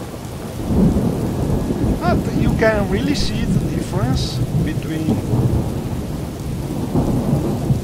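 Heavy rain pours with rolling thunder in the Morrowind video game, a loud, dense roar of falling water and rumbling that continues while someone speaks over it.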